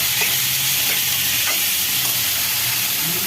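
Chana dal, dried red chillies, tomato and onion sauté in a pan for kara chutney, giving a dense, continuous loud sizzle and hiss close by with faint stirring, no voices.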